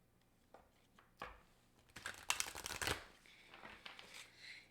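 A deck of tarot cards is shuffled close up and quietly, with a few light taps before a dense burst of riffling flutter in the middle and softer card handling afterward.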